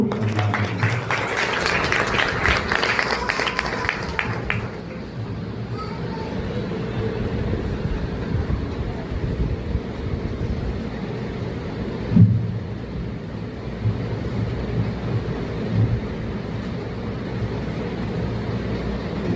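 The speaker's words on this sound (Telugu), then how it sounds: "గట్టిగా చప్పట్లు కొడుతూ" Loud, sustained applause from a church congregation after a pastor's address, steady clapping filling the hall for several seconds before thinning into a lower murmur of crowd noise with a few scattered claps.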